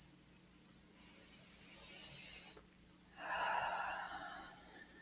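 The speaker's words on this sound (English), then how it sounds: "let's go ahead and take a nice deep breath" Slow, deep breathing during a guided relaxation session, a soft inhale followed by a louder, breathy exhale, close to the microphone with no talk.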